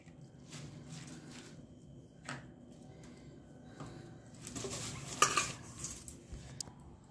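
Fresh gongura (sorrel) leaves go into a pan for spicy Andhra chicken curry: scattered soft rustles and light utensil clinks against the metal pan, a denser burst of scraping and clatter near the end, fairly quiet and close with no talking.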